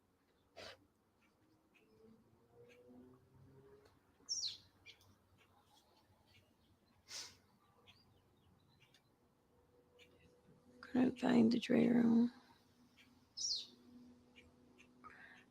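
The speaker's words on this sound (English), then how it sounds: "Fucking birds. They're so loud." Birds chirp and squawk in short, sharp bursts, scattered and fairly near, with one louder cluster of harsh calls partway through, over a quiet background and brief muttered speech.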